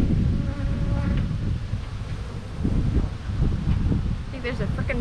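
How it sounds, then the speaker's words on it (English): Bald-faced hornet buzzing close by outdoors at a beehive, a faint droning hum over gusty wind and rustling, with a voice talking at moments. "I think there's a freaking bald-faced hornet after me out here."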